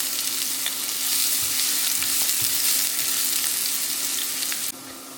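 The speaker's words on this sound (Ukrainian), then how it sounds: "Спочатку обсмажу цибулю до золотистого кольору" Onion frying in a pan until golden: a steady, dense sizzle with crackling spits that holds evenly throughout, dropping slightly in level near the end, with no talk.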